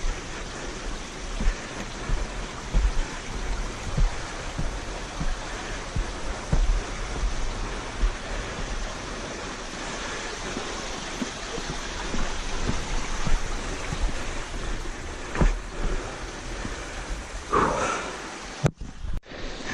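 Water trickles and splashes steadily through a large boulder field cascading down Eagle Mountain in the Wichita Mountains, a continuous close rushing wash with occasional knocks and a brief clatter near the end.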